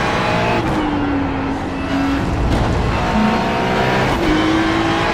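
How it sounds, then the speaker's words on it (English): GT3 race car engine in a racing video game at Portland, a steady loud drone with shifting gear tones and brief revving changes, running continuously throughout with no talk. "Tell me if you hear my car, because I turned my engine down."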